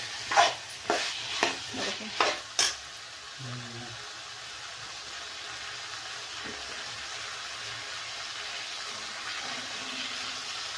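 Potato and pea curry is stirred and sautéed in a pan. Several quick scraping strokes come in the first few seconds, then a steady, low sizzle continues alone.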